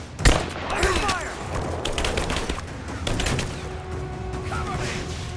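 Gunfire in the video game Rise of the Tomb Raider, with an opening sharp shot followed by scattered bursts and rattling fire amid ambient noise and occasional bird-like calls, with faint voices mixed in.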